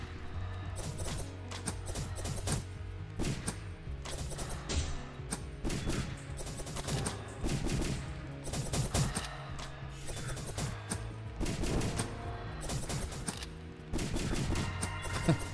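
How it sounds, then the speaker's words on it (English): Rapid-fire gunshots in the train roguelike game Pass the Fear, a dense continuous stream of quick sharp shots in bursts that hold steady and loud throughout, layered over booming game sounds. "The rapid fire shooting is crazy."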